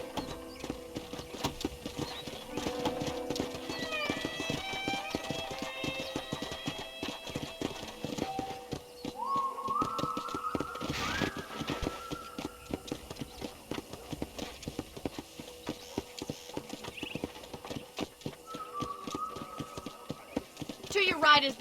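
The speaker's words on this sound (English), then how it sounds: "let's see if you can still ride a horse" Horse hooves clip-clop in a steady, repeated rhythm throughout in the video game Red Dead Redemption, with a voice talking over them and other tonal sounds appearing now and then.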